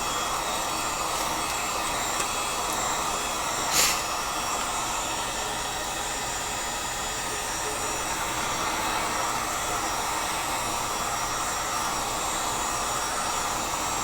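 Heat gun heating PVC for a recurve bow, a steady close blower hiss and whir that holds constant throughout, with one brief knock partway through.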